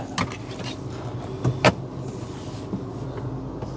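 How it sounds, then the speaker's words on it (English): An electric seat motor adjusts the seat of a Rover 75 Turbo car, with a few short whirring and clunking bursts standing out against a low, steady cabin hum. "put the seat into man position."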